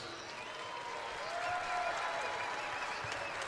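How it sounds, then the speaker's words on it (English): Crowd applause at a boxing event after a fight, a steady wash of clapping and arena noise throughout with a faint voice underneath. "let's please get a nice round of applause out here for both of these fighters"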